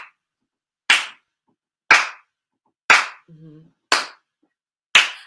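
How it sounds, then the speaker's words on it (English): Single sharp hand claps at a steady rhythm about once per second, five crisp loud claps keeping time with movements, with a brief murmured voice between two of them. "So clap with me."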